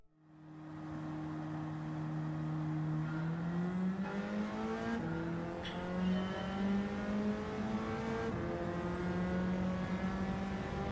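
Subaru 22B engine in a racing video game, a steady droning note that climbs in pitch through gear changes, with faint tire squeal, loud and continuous with no talk.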